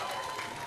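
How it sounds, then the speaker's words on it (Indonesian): A short burst of dense, steady clapping from an audience at a law discussion talk in Medan, Indonesia, fairly soft and continuous throughout. "Tepuk tangan kawan-kawan."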